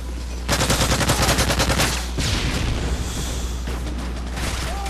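Rapid bursts of automatic gunfire from Modern Warfare 3, a fast-firing gun with a rapid-fire attachment, rattle loudly in dense volleys with booming shots and game effects between them, close and continuous.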